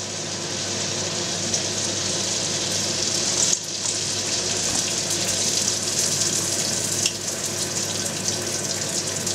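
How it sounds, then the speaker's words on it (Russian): Meat-filled belyashi fry in oil in a home frying pan, giving a steady, dense hiss and crackle that continues loud and unbroken throughout, with no talking. "А ну-ка, давай его в другую часть сковородки, чтобы было видно, как он жарится."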